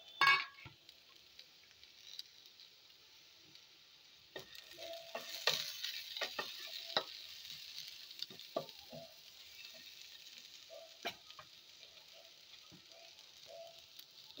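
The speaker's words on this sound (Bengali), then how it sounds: "এবার এর মধ্যে দিয়ে দিচ্ছি একটা পেঁয়াজ আমি কুচিয়ে নিয়েছি।" Chopped onion frying with bitter gourd in a pan: a soft, steady sizzle with stirring scrapes and spoon clatter that come and go, fairly close and quiet.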